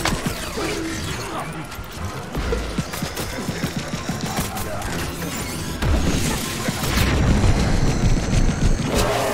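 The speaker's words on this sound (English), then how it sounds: "A homing missile." Homing missile explosion in Plants vs. Zombies: Battle for Neighborville, set amid dense, continuous game combat with crashing and booming impacts that swell louder toward the end, with no talk.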